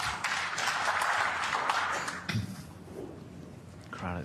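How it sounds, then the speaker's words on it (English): A snooker crowd at a 2024 semi-final between Ronnie O'Sullivan and Judd Trump claps for a good recovery shot, a moderate burst of applause that fades after about two seconds, with some voices near the end. "Crowd acknowledging another good recovery shot"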